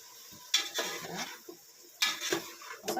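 Spoon clanks and scrapes against a cooking pot while stirring an egg and vegetable sambar, in a few separate bursts of clatter with short pauses between.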